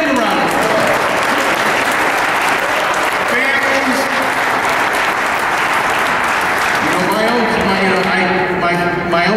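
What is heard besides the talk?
applause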